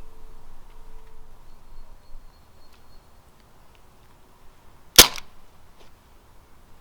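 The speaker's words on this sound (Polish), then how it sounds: "Pistolet wystrzelił i to się liczy jako oddany strzał." A single sharp pistol shot cracks out once during a duel, standing alone against a quiet, faintly humming background.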